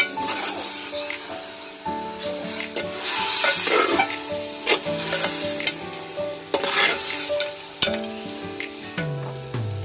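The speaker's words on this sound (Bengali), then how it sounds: "হলুদ গুঁড়ো দিয়ে ভালো করে মিশিয়ে নিতে হবে।" Turmeric powder being stirred into mutton in a pot for a Champaran mutton handi, a spoon scraping and clinking against the metal in repeated strokes over a soft sizzle, with music playing throughout.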